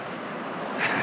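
Steady wind gusting through an eastern Canadian blizzard, a broad continuous roar that swells slightly near the end, heard alone without voices.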